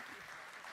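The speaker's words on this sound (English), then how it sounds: "Give her more claps." Audience clapping at an alumni reception and dinner, a steady dense patter of many hands filling the room without pause.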